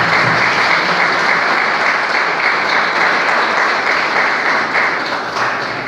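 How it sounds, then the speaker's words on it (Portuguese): A church congregation applauding during a worship service, a dense, loud, continuous wash of clapping that holds steady and fades slightly at the end, with no talk over it. "você aplauda o Senhor pela vida dele"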